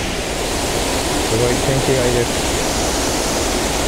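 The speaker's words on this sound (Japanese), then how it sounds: "すごいでかい滝いいですね。" A large waterfall in the Hotel New Otani garden in Tokyo gives a steady, full rushing roar that lasts throughout while someone talks over it.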